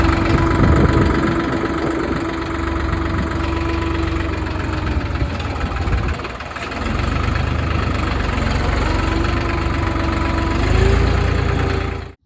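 A New Holland tractor engine idling at low rpm with a steady diesel knock and chugging vibration, loud and close, holding a fairly even note throughout with a brief dip midway, no voices.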